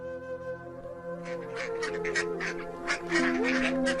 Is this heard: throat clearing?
no